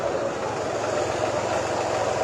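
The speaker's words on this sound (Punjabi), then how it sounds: "ਟਰੈਕਟਰ ਮਾਰਚ ਸ਼ੁਰੂ ਹੋ ਰਿਹਾ ਹੈ" Tractor engines idling at a farmers' tractor march at Singhu, a dense, steady low rumble with a continuous broad roar and no clear pauses.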